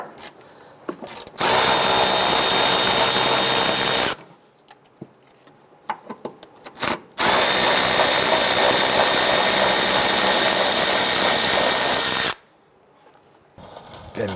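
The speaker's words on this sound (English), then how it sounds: "Let's go ahead and loosen those bolts and remove them." A power tool loosens the two 15mm bolts on a rear shock mount of a 2005-2010 Chrysler 300, giving two long, loud, steady whirring runs of several seconds each, separated by quiet clinks and handling noises, with no talk.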